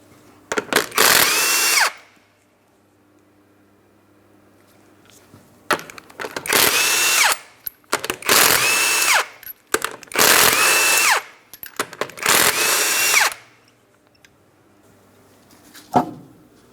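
A power tool spins off the 21mm lug nuts from a Mitsubishi Outlander front wheel in five loud, close bursts, each about a second long, separated by short quiet gaps with faint shop noise.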